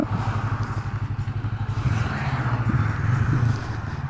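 Motorcycle engine running close by with a steady pulsing low throb that rises slightly as the throttle is opened, revving in short bursts on a roadside.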